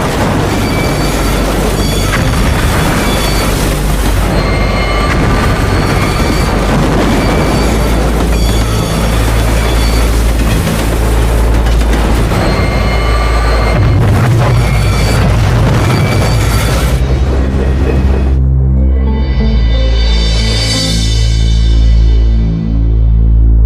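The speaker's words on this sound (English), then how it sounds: "The tremendous impact destroys the train." A three-coach train driven at 100 mph slams into a nuclear waste flask, a loud, sustained crashing roar of tearing metal that gives way to quieter ringing and rumbling.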